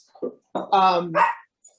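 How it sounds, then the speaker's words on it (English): Dogs bark at home during a cat-fancier discussion of judging and the Tonkinese breed: a few short, sharp, fairly close barks and yips in quick succession. "pardon my barking dogs"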